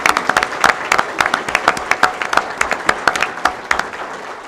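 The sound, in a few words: audience applause for award recipients at a school board meeting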